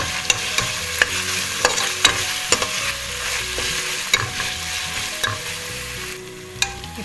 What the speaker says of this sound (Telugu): వేసి కొంచెం ఫ్రై చేయాలి జింజర్ గార్లిక్ పేస్ట్, మంచి వాసన వచ్చే వరకు ఫ్రై చేసుకుందాము.